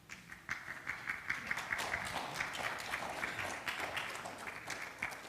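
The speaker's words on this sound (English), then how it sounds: "Applause goes up" Applause from a church audience at a Seventh-day Adventist service, a steady patter of many hands clapping at moderate distance, fairly quiet and continuous throughout.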